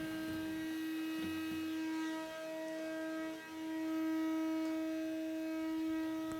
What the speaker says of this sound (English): I'm just going to take a brush and a shop vac and clean off the surface